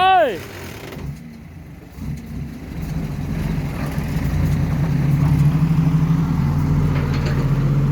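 An Isuzu FXZ360 dump truck engine idles and then rumbles with a deep, steady drone that grows slightly louder, while a person talks over it.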